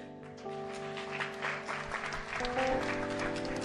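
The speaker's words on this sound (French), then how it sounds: "On peut acclamer frère." A church congregation claps steadily and warmly over sustained keyboard or organ chords, and the applause swells slightly toward the end.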